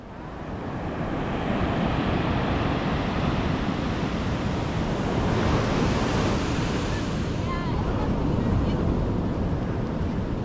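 Ocean surf and gusting wind near Glass Beach, a broad continuous roar of breaking waves with wind buffeting the microphone, steady and loud with no talking.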